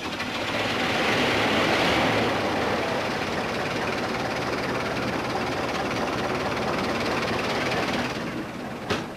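Classic big rig truck engine with a magneto, cold starting: a loud, steady, rough mechanical roar that holds for several seconds, then cuts off with a brief knock at the end.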